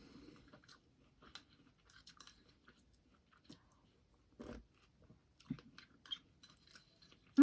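Someone eats Rice Chex cereal with milk, giving soft, irregular crunching bites and chewing close to the mic, with quiet gaps between them and no talk.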